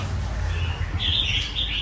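Red-whiskered bulbul chirping in a cage during care and feeding, a few short high chirps rising over a steady low background hum, fairly close and alone.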